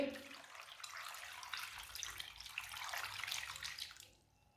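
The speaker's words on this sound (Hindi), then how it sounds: "3 गिलास पानी डाल लेंगे।" Water pours steadily into a pot of cut potatoes with a splashing, rushing sound, then stops abruptly near the end, leaving near silence.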